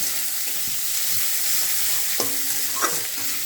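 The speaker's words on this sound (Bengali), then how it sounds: "তারপরে এই সব কিছুকে খুব ভালো মতো নেড়ে ফেড়ে নিয়ে" Potatoes with chopped green chilli frying in a pan for tiffin-style chow mein while being stirred, producing a loud, steady sizzle with a couple of metallic scrapes from the spatula.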